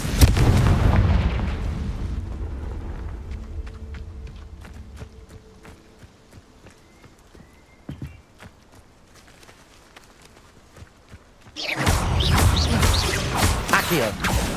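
Confringo spell explosions in the video game Hogwarts Legacy: a heavy booming blast opens, a sharp crack sounds midway through a quieter stretch with light footsteps, and another loud rumbling burst follows near the end.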